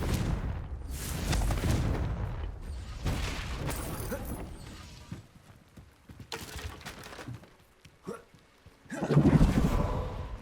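Confringo fire spell blasts in Hogwarts Legacy, a burst of loud booming explosions with crackling debris, fading into quieter rustling before another heavy blast near the end.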